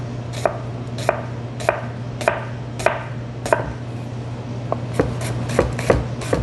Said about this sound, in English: This is how I like to cut onions.